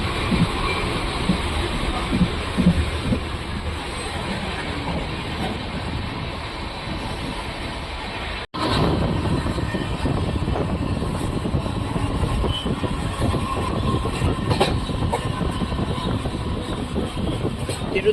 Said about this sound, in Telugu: ట్రైన్ కూడా పక్కనే ఉంటుంది.